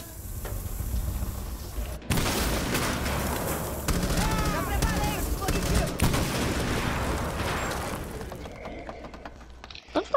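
Gunfire and mechanical weapon clatter from the Rainbow Six Siege video game, dense rapid bursts over about six seconds with a voice talking faintly underneath, then fading to quieter game sounds.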